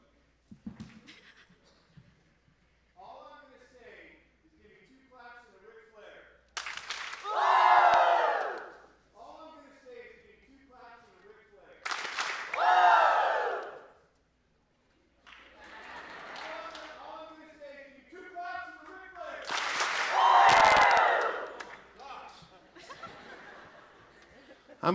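A school showcase crowd shouts a cheer in several loud bursts, with a leader's voice talking in between the group yells.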